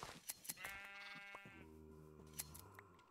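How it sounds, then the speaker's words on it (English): Baby sheep bleat in the video game Minecraft, two wavering nasal bleats one after another amid small clicks and taps, faint and without talking. "Baby sheep."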